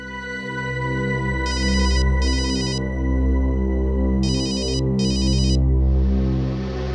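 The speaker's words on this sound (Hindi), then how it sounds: "किसका फोन है" A phone ringtone plays steadily over a sustained musical backdrop, with two pairs of bright ringing bursts separated by a short gap.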